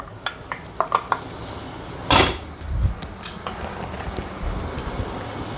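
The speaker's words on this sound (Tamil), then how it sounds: "எல்லாத்தையும் வதக்க போகிறோம்." Carrot and capsicum being sautéed in ghee in a pan, with a run of quick spoon clinks and scrapes against the pan, one louder clatter, and a soft sizzle underneath, close and clear with no talking.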